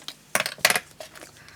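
Scissors being picked up and handled among paper-craft supplies, giving a few brief metallic clinks and clatters close to the microphone.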